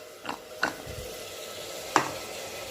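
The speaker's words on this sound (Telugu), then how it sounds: "అవి ఆనియన్స్ బాగా రెడ్గా వేగాలి" Onions fry in a pan for a mutton coconut curry, with a steady low sizzle broken by a few sharp scrapes and clinks of a spatula stirring.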